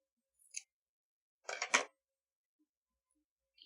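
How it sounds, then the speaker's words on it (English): Scissors snip through a strip of fabric in a quiet craft room, a faint clip followed about a second later by a louder double crunch of closing blades. "I'm going to go ahead and cut a strip here"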